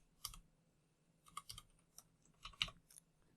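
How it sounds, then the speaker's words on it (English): Typing on a computer keyboard in short clusters of soft clicky keystrokes, with brief gaps between bursts, close and quiet. "I'm going to try typing in Python 3 to start"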